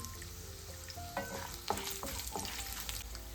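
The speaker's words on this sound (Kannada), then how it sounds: "ಬೇವು ಸೊಪ್ಪು ಕಾಯಿ ಮುಂಚೆಯನ್ನು ಒಗ್ಗರಣೆಗೆ ಪಾಡೋದು" Curry leaves and chillies crackle in hot oil for a tempering, a lively sizzle broken by sharp pops and metal stirring clinks, close and unbroken without talk.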